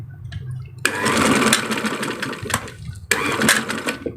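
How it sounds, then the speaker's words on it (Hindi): A sewing machine stitches a folded fabric hem on a salwar in two quick runs of rapid, whirring needle clatter, separated by short pauses, loud and close. "अब यहाँ पर भी हम इसी तरह से सिलाई लगा देंगे"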